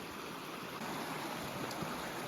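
At a creek crossing on the Wildhorse trail, flowing creek water makes a steady, even rushing wash that continues throughout, moderately close, with no speech.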